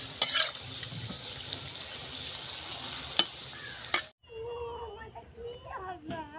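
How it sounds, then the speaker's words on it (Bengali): Palm gaja pitha pieces frying in oil make a dense, steady sizzle with a few sharp clicks; the sizzle cuts off abruptly after about four seconds and a voice follows. "ভেজে নেব সবগুলোকে"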